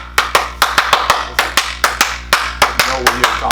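A single person's hands clapping about a dozen times, close and sharp, in a quick slightly uneven rhythm over a low steady hum.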